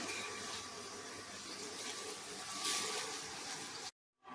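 Spiced masala water being poured into a pot of fish curry, a steady close rushing pour that stops abruptly near the end, with no talking over it.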